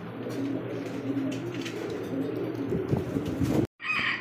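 Many pigeons at a busy pigeon market coo in a dense, continuous chorus close by. The sound stops briefly near the end, then resumes.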